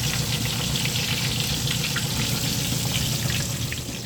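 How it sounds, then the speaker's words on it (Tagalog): Pork pieces for sweet and sour pork fry in hot oil during a second frying, giving a steady, even sizzle with fine crackling throughout and no voices. "We're gonna fry this for another 2 minutes, and then that's it."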